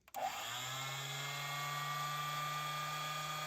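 A Harbor Freight die grinder starts with a few clicks, then spins up into a steady, close, high-pitched whine with a low hum, running continuously as it cuts during a sledgehammer restoration.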